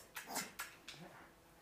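A person imitates a dog with a quick series of three short yipping barks, close and fairly quiet, each a brief sharp burst followed by a fading tail.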